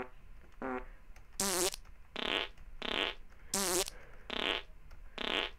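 A toilet in a T.A.R.D.I.S. video game mod letting out a string of cartoonish fart sounds: about seven separate buzzy, wobbling blasts of varying length in a loose rhythm, close and clear with nothing else over them.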